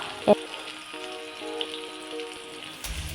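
Green beans dropped into hot oil with popped mustard seeds for a Kerala-style beans thoran, starting with a brief clatter and followed by a steady, soft sizzle while a voice talks over the frying.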